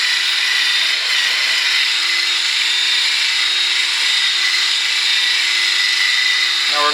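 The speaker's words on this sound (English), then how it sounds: "You can just hear the difference in the drill." A cordless drill with a fresh battery whirs continuously at high speed while sanding a cheap Acura TSX's headlight, a steady loud grinding drone that holds throughout before a brief change at the end.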